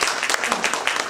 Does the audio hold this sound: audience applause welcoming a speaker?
yes